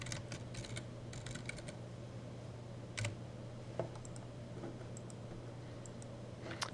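Typing on a computer keyboard, quiet bursts of clicking keystrokes in short runs separated by pauses, with a low steady hum underneath.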